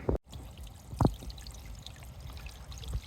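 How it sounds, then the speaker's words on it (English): Water trickles from an old pipe beside a trail along the Goose River in Fundy National Park, a soft steady pouring with a couple of brief louder splashes, close by and with no talking. "That pipe is still here. See, it's filling up that water slowly."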